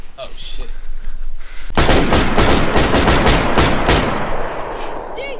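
Rapid, loud bursts of gunfire in the DayZ video game, a sudden barrage of many shots that starts abruptly and keeps going in dense volleys, with a voice heard faintly before it begins.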